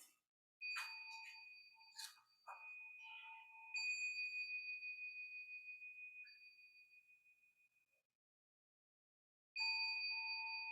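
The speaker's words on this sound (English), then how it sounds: "3 bells and a stop." Three ringing bell strikes at a Soto Zen Sunday service, each clear metallic tone sustaining and slowly decaying in a quiet room, the last struck after a silent pause.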